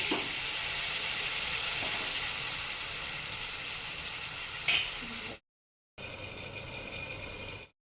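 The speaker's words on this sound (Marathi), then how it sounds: "याला मी आता छान झाकण ठेवून पाच मिनिट कमी आचेवर शिजवणार आहे" Amti curry made with sour mango seeds simmers covered over a low flame, giving a steady close hiss and sizzle with a faint bubbling bed, a brief sharper burst near the end and a short silent gap.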